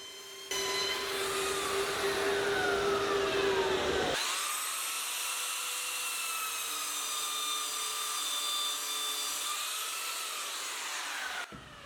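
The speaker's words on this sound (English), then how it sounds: "belt sanding the joint of this top plate" A belt sander grinds across the joint of a wooden top plate, whining loudly and steadily up close, the pitch shifting partway through before it cuts off.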